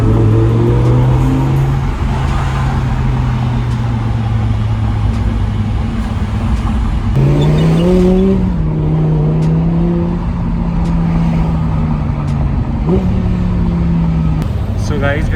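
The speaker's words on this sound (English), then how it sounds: "we're sitting in the Audi R8 V10 and we are heading to Select Auto Mechanica" Inside an Audi R8 V10 while driving, the engine hums and rises in pitch through several revs and shifts, fairly loud and steady under cabin noise.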